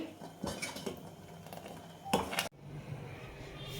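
A spoon mixing mango custard in a bowl, faint clinks and scrapes of metal against the dish coming in short uneven strokes, quiet and close with no speech.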